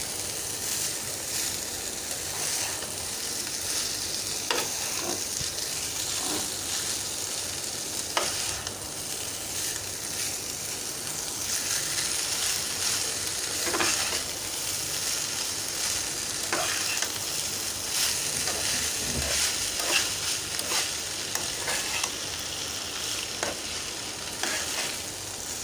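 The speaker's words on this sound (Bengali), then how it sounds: "ভাতটা একেবারে ভাজা হয়ে গেছে" Leftover rice stir-fried with spices in a pan makes a continuous moderate sizzle, with scattered scraping and stirring clicks from a utensil throughout and no talking.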